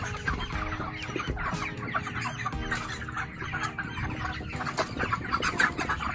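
Broiler chickens on a poultry farm, about 37 days old and averaging roughly 1.8 kg, cluck and chatter as a dense, steady flock noise that fills the whole stretch without pause.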